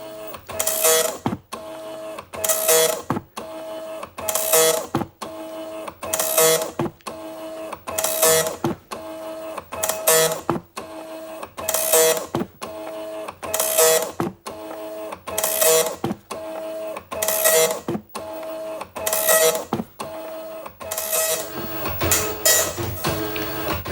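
An Amstrad DMP 2000 dot matrix printer printing line after line, each pass a loud buzzing rasp of about a second separated by short pauses, in a steady regular rhythm throughout with no voices.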